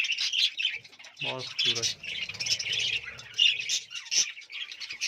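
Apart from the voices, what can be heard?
budgerigars chirping in aviary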